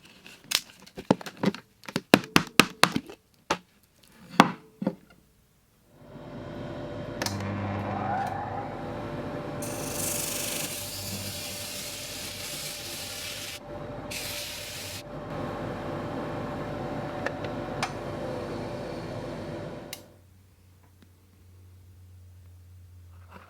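A lathe spins a styrofoam block, starting with a burst of sharp knocks and clatters, then settling into a steady loud whirring grind with hissy, crinkly scraping bursts that cut off abruptly near the end.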